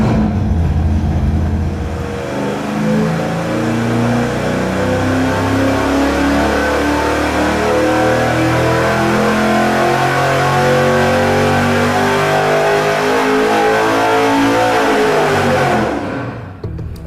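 A Weiand roots-supercharged engine on a dyno at about 5.5 pounds of boost, revving hard: a loud, sustained, rising engine roar close up that holds for about fifteen seconds before cutting off abruptly.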